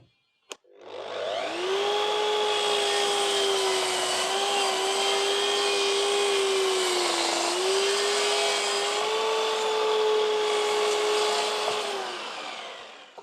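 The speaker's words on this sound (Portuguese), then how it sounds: "Agora vamos lá fazer o corte desse template até a gente conseguir ajustar ele corretamente" A power tool cuts a wooden stair-step template at a 45-degree angle, starting with a click and then holding a loud, steady whine with a slight dip in pitch partway through.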